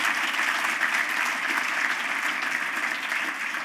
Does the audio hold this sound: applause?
yes